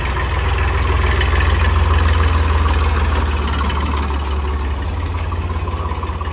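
A Swaraj 735 tractor, freshly repaired with a replaced front section, idles close by with a steady, deep, even throb that holds unchanged throughout, with no voices.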